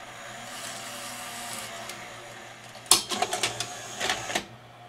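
A Sony UVW-series Betacam SP deck ejects a tape after a quiet motor hum: a sharp mechanical clack followed by a quick series of clicks and whirs, then silence, close and alone.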